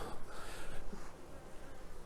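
Honey bees buzz in a dense, continuous drone around an open hive during a queen replacement, close and steady with no talking.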